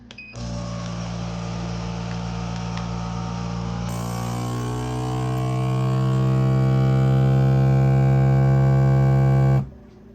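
A vacuum sealer set to dry mode runs on a bag of turkey, a loud steady motor hum that deepens and strengthens as the air is pulled out, then stops abruptly near the end.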